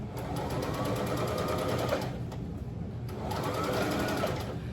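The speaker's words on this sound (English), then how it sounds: "When I start sewing, put your thread all the way to the back of the presser foot" Sewing machine stitching fabric for a designer bag, a steady close whirring hum of the running motor and needle that holds through the whole stretch with a brief dip near the middle.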